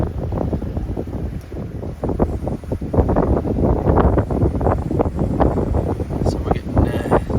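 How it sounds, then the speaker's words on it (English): Wind gusts buffet the microphone aboard a sailboat making about 8 to 10 knots at sea off Gibraltar, a rough, uneven roar that rises and falls in bursts over the hiss of water. "So we're getting nice gusts here now."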